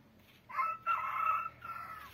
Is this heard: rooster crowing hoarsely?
yes